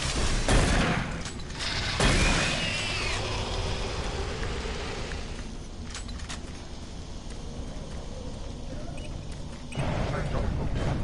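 Shotgun blasts in the first-person shooter Doom 3, a few loud booming shots spread out over a steady mechanical game ambience, with someone talking over parts of it.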